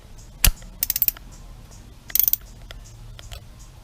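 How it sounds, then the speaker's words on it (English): A torque wrench tightens spark plugs to 11 foot-pounds on a Ford Mustang Bullitt, giving two short bursts of rapid ratchet clicks after a sharp metallic knock, close and distinct over a quiet garage background. "So we get my nice torque wrench here."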